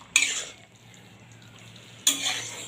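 A white papaya and potato curry with spice paste and ghee is stirred in a pan, giving two short, bright scraping clinks about two seconds apart over a faint background.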